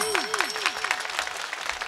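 Audience clapping along at a kirtan during a harinam saptah, with a mridang drumming nearby; brief, steady rhythmic claps under a falling tonal sweep, fairly close and moderately loud.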